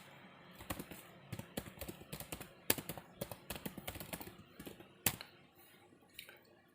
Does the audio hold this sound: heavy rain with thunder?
no